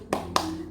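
Two sharp hand claps a quarter second apart, close and crisp, from a children's clapping chant, with no talk over them.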